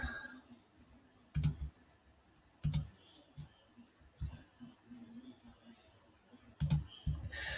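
Computer mouse clicks while navigating a LiveBinder web page: a handful of sharp, close clicks spaced irregularly over a quiet room background, with no talking.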